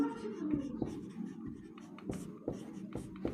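A pen writes by hand during a Class 10 maths lesson on real numbers, close scratchy strokes and taps in quick bursts, with no talk over them.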